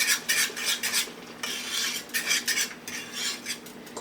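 Metal utensils scrape and clink against a pan coated with oil on the stove, in quick repeated strokes, close and fairly clear with no talk.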